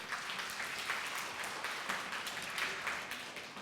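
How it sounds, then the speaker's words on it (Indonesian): A Sunday school congregation at a church service applauds, an even, continuous patter of many hands heard faintly from a distance, with no talking over it. "Tepuk tangan."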